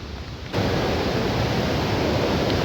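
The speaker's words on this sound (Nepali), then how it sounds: "यहाँ हेर्नु यो खालको खोला बढ्दैछ" A swollen stream rushes close by in a loud, steady roar that starts abruptly and continues unbroken.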